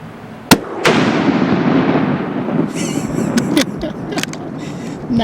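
A single sharp rifle shot during a coastal Alaska black bear hunt, followed by a second crack and a long rolling echo outdoors, then a few rustling clicks near the end.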